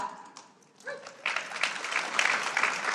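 A conference audience at a sustainability business event claps in agreement, starting after a short spoken phrase and building into moderate, fairly quiet applause from a scattered crowd.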